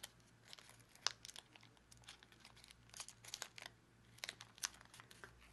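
Origami paper for a flapping dragon model being folded down along a crease: quiet, intermittent crinkles and sharp papery crackles in irregular bursts, close and faint, with no talking.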